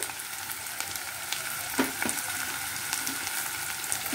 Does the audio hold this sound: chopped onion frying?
yes